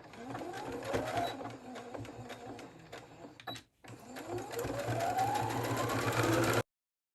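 A sewing machine stitches a blouse armhole seam close beside an edge in two steady runs of rapid mechanical whirring, briefly pausing midway, fairly close and moderately quiet.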